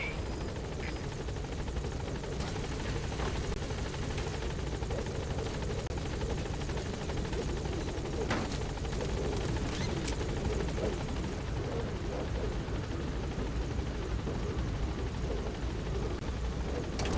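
A B-Quad support helicopter in Metal Gear Solid V arrives at a landing zone, its steady, loud rotor and engine roar running continuously throughout with no speech.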